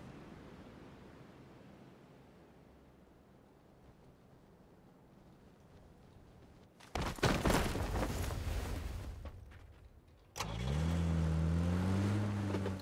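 A car engine in PUBG: Battlegrounds starts up after a stretch of quiet ambience, with a sudden loud rush of noise followed by a steady, close engine drone that rises in pitch, with no talking.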